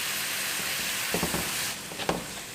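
Grated tomatoes go into a hot pot of bean curry, and a steady loud frying hiss rises with a few stirring scrapes and bumps toward the end.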